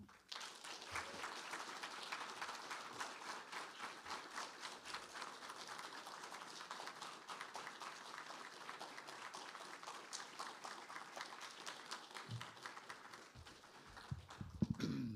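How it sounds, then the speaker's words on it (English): Audience applause following a poetry reading at a faculty presentation, a steady dense wash of clapping that holds for the whole stretch and swells slightly at the end. "I think we need a little more applause for Tracy Fuad."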